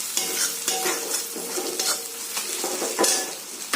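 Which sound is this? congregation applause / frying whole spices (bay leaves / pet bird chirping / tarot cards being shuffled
frying whole spices (bay leaves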